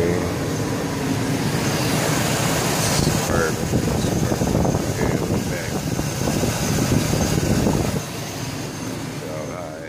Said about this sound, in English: I got that compressor on